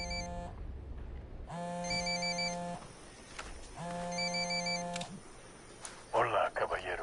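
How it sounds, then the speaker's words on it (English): In Ghost Recon Wildlands, a telephone rings with a repeating electronic ringtone in two long bursts, loud and close, with talking heard over and between the rings. "There's the phone. We're gonna answer."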